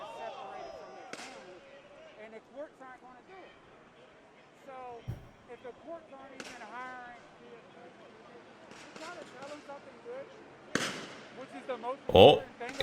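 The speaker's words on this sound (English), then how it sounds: "Oh, there go the rubber bullets." Scattered sharp pops of rubber bullets fired at a protest, irregular bursts near and far under murmured talk and crowd noise, with one louder crack near the end.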